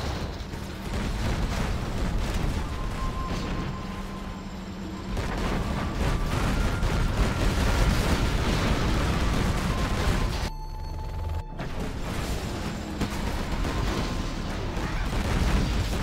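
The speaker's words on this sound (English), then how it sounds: "It's level 3 artillery, man." Level 3 artillery fire in a 3v3 Defcon video game tank battle, a dense continuous rumble of booms and blasts running throughout, briefly cutting out near the end before resuming, with no talk over it.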